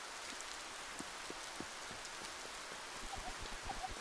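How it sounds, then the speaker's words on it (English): Steady rain pattering on a surface in the video game Spirittea, continuous and even, with a few louder drops landing close by. "Soothing rain sounds"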